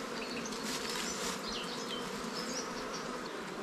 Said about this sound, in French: il y a plein d'abeilles dans la ruche.